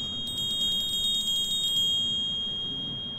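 Bright jingling of a sleigh bell in the VR game Santa Simulator, a rapid run of repeated metallic rings over a low background hum, then fading into steady ambience.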